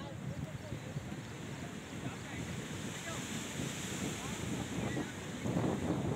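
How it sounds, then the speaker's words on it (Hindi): Water of the Sharda canal rushes steadily in a strong, continuous wash heard up close outdoors, with wind buffeting the microphone and no talk. "बिल्कुल करीब से मैं आपको पानी की धार को दिखाता हूँ। इस वक्त जो है वो 13 फीट पानी इसमें बह रहा है।"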